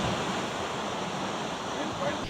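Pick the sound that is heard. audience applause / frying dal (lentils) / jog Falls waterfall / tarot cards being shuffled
jog Falls waterfall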